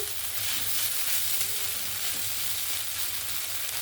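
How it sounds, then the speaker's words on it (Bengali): Poha cooked with sugar is stirred in a hot pan until the sugar melts, a steady frying sizzle with soft scraping running throughout, close and even, with no voices. "চিনিটা যতক্ষণ না মেল্ট হয়ে যাচ্ছে ততক্ষণ কিন্তু ভালো করে মিক্স করে নিতে হবে"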